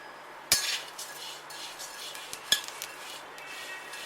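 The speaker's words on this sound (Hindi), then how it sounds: "अब मिगी रोस्ट होना स्टार्ट हो गई हैं।" Melon seeds (magaz) roasting in a kadhai make a faint, light crackle, broken by a couple of sharp metallic clinks of a spoon against the pan; close and quiet, with no speech.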